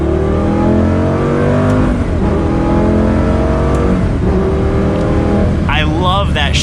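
A Lamborghini Gallardo V10 revs loud and close, its engine note climbing in steady harmonic sweeps through a gear shift and rising again, while a voice talks over the engine.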